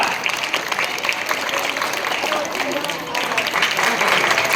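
A crowd applauds a mallakhamb pole-gymnastics demonstration with dense, steady clapping that carries through the whole stretch at moderate loudness, and a voice is faintly mixed in.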